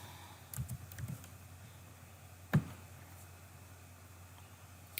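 Quiet keystrokes on a computer keyboard as a product code is entered while placing an order, a short cluster of soft clicks early on, then a single sharper tap midway, over a low steady room hum.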